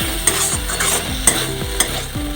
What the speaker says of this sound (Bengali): তো আলুটাকে একটু হালকা একটু ভাজা ভাজা করে একটু জল দিয়ে দেবো